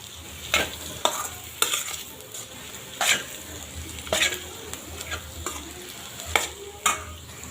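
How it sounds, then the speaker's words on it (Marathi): A spoon scrapes and stirs yellow potato chutney in a frying pan, sharp scraping strokes repeating every second or so over a soft, continuous sizzle, close and clear. "छान हलवून घेऊ."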